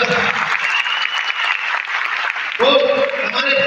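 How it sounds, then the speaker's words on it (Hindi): An audience at a motivational awards event claps steadily in a loud, sustained wash of applause, with a voice speaking over it. "यस आप ताली बजा सकते हैं, जबरदस्त।"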